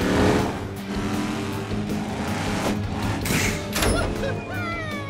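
A Hot Wheels monster truck is launched off a ramp: a loud, continuous engine roar with tire squeals and a thump, ending in bright rising whooshing tones.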